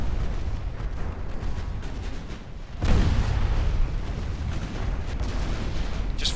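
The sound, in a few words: naval 9-inch cruiser guns firing, Ultimate Admiral Dreadnoughts video game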